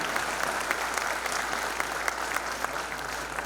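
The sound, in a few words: audience applause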